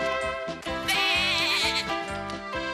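Several goats bleat in quick succession, overlapping cries close by with one louder, wavering call in the middle.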